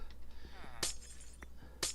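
A Minecraft glass block breaks with a bright, crisp shatter, mined using a Silk Touch tool; two sharp bursts land about a second apart among light clicks, with faint background game sounds.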